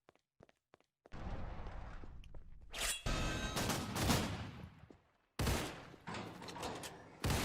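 Gunfire in the Roblox game The Storage: a few faint clicks, then sustained bursts of rapid automatic shots with brief pauses between volleys, loud and close.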